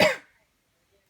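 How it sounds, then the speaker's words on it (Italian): A single sharp cough at the very start, close and fairly loud, then near silence. "Oggi siamo con la tosse."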